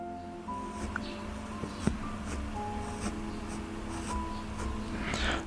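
A black pencil shades a realistic eye drawing on paper, giving soft, continuous scratching strokes close up that carry steadily through the clip with brief taps along the way.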